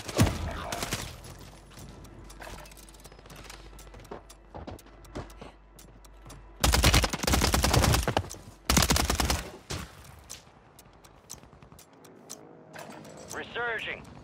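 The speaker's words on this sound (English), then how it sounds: "Taking effective fire." Video game gunfire in a lockdown quads match, with loud sustained bursts of automatic fire and scattered single shots amid game effects, and voices talking at times.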